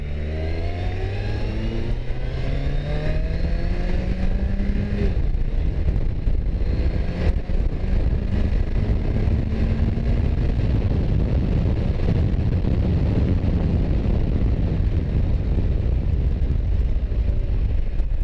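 A Kawasaki Versys 1000 motorcycle ridden fast, its engine revving up through rising gear pulls and then holding a steady, loud drone under constant wind rush, with no talking.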